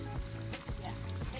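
Fish frying hard in hot oil at an outdoor catch-and-cook, a steady dense sizzle with bubbling crackle running throughout, fairly loud and close, with faint voices mixed underneath.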